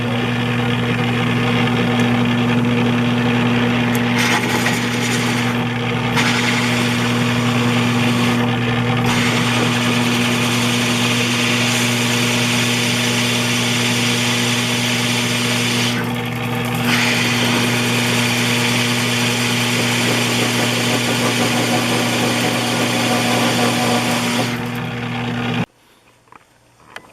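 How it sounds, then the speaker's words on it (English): A Forstner bit bores a 2-inch counterbore into a plastic router base, a steady loud motor whine with strong low hum running for about 25 seconds before cutting off abruptly near the end. "I take a Forstner bit and drill a 2-inch hole to the proper depth"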